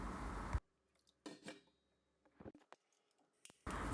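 A lid set down onto a wide cooking pot holding water, giving a few light metallic clinks and taps between short louder handling bursts at the start and end.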